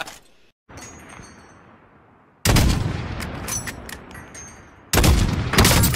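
Pistol gunfire in a video game rings out in sharp, loud broadband bursts, with a quieter shot early on and two heavy volleys of rapid cracks later, each followed by a ringing tail.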